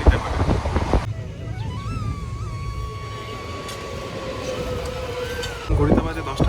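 Passenger train on the Bolpur–Bardhaman line, running late, gives a steady rolling rumble with a long whining tone that rises, holds and slowly fades; louder clatter and voices come at the start and end.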